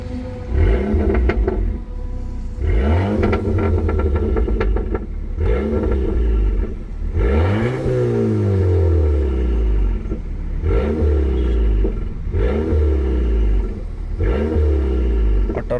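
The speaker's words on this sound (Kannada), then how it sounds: "ಇದ್ರದ್ದು ಎಕ್ಸಾಸ್ಟ್ ಒಂಥರ ಚೆನ್ನಾಗಿದೆ" An Audi TT sports car engine revs repeatedly while stationary, the exhaust note rising and falling in loud, throaty bursts with a deep rumble between revs.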